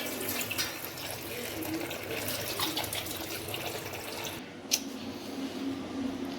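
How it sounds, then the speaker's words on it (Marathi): Water runs and splashes steadily as ridge gourds are rinsed, with a brief louder splash near the end and no talking. "हे शिराळे आहेत ते मी स्वच्छ दोन पाण्याने धुवून घेते"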